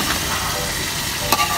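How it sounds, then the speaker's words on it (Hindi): Chicken frying and being stirred in a cooking pot: a soft continuous sizzle with faint scraping, and a brief clink near the end. "10 मिनट अब इसको अच्छे से भूनेंगे"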